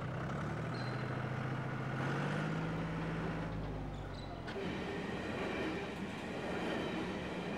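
A coal train rumbles past in the Hunter Valley of Australia, a continuous heavy roll of wagons and wheels with a low droning tone that shifts partway through, close and loud, with no voices.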